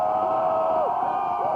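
Crowd celebrating outdoors in the night after a 1991 World Series win, a loud, steady wash of cheering with whoops and shouts rising over it.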